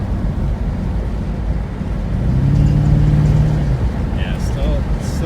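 A 1998 C5 Corvette engine revs up briefly with a little gas, its low rumble rising and falling while a faint belt noise from a suspected worn serpentine belt rides along, close by inside the car.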